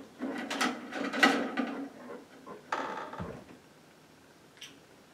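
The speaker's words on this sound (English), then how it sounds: "The creepy closing door." A door at a reportedly haunted old hospital creaks and slides shut in a series of wooden scrapes and knocks, followed by a thud and a faint later click in a quiet room.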